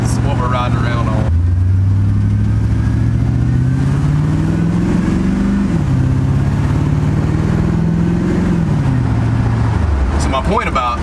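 A pickup truck with an LS engine swap, running a base tune with no performance tune, drives along with a steady engine drone that rises and falls through the gears. Someone talks over it throughout.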